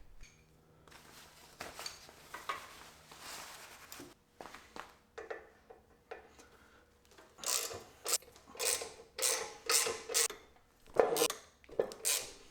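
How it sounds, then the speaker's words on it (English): Screws come out of an Indian Scout motorcycle's fender. Quiet metallic fiddling gives way to a run of sharp ratcheting bursts, close and rhythmic, with short pauses between the turns. "As I'm pulling these screws out,"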